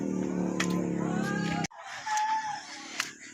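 Chickens at feeding time cluck and call near the camera as feed is scattered. A dense, busy flock chorus is cut short midway, followed by a few sparser calls over quieter surroundings.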